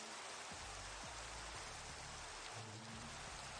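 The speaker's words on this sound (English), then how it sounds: "I don't like the rain." Steady rain hisses loudly and evenly throughout, with some low rumbles and knocks underneath.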